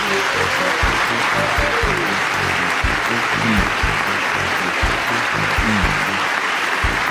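Steady crowd applause, dense and sustained throughout, with many hands clapping at once.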